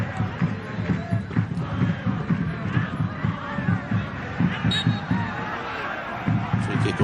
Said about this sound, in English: There's the cheer from the local fans.